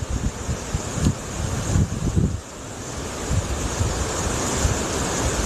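Ocean waves at sea, taken from the deck of a cruise ship, wash and churn steadily under heavy wind buffeting on the microphone.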